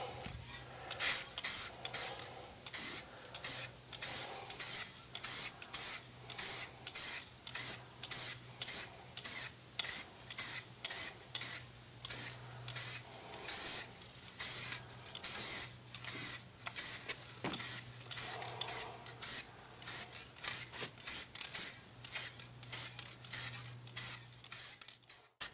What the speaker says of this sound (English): we're ready for the paint. So we're going to go with a light coat first.